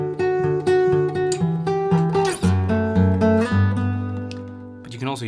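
Fingerpicked acoustic guitar playing a simple two-note picking pattern, steady plucked notes ringing close and clear over a few chord changes, fading out at the end.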